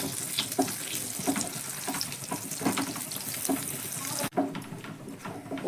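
Homemade tiffin snacks sizzle steadily in hot oil in a pan over a medium gas flame, a continuous crackling fry with occasional light clatters and a brief break partway through.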